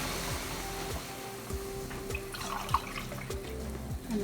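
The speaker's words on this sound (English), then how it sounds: "Now we're going to add" Water pours steadily into a pot of hot pot broth infused with garlic, onion and ginger, a quiet trickling splash against a faint low background rumble.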